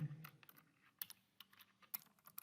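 Typing on a computer keyboard while entering a short form description, a quiet run of close, irregular key clicks with a few sharper taps and no talking.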